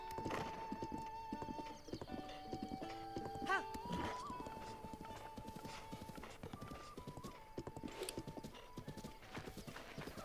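Rhythmic clip-clop of horse hooves at a steady trot in the video game The Legend of Zelda: Breath of the Wild, with an occasional whinny and light background tones.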